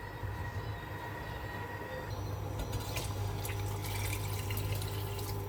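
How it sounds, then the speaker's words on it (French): Hot water runs from a tap into a cooking pot for couscous, a steady loud rushing flow with a low hum beneath and splashing that brightens toward the end. "Je vais mettre de l'eau chaude."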